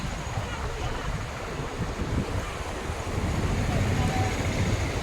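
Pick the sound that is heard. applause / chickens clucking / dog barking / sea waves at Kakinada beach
sea waves at Kakinada beach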